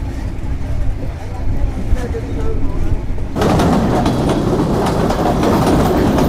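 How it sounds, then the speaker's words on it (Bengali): The Khulna-bound Rupsha intercity express rumbles past close by at old Ahsanganj railway station, loud and steady after a quieter start, with a rhythmic clatter of wheels over rail joints and faint voices in the background. "আহসানগঞ্জ পুরনো রেলওয়ে স্টেশনে আমাদেরকে বসিয়ে রেখে চলে যাচ্ছে খুলনা অভিমুখী আন্তনগর রূপসা এক্সপ্রেস"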